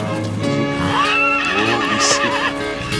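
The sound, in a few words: paint horse neighing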